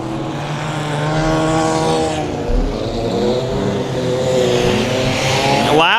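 Race cars in a 300-lap enduro at Willow Springs speedway roar continuously at close range, engine pitch rising and falling with gear changes as cars pass, with a loud snarl building at the end.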